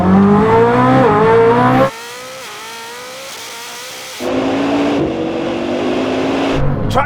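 A Koenigsegg Jesko Absolut and a Bugatti Chiron accelerate hard in a drag race, with loud rising engine notes climbing through the gears. A quieter stretch comes in the middle before the roar returns.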